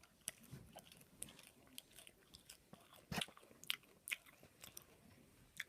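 Someone bites and chews a raw rocket salad leaf close up, a quiet run of crisp crunches and moist chewing clicks at an irregular pace, no talking.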